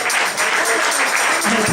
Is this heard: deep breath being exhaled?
no